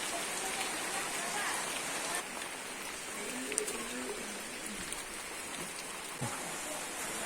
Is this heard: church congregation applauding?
no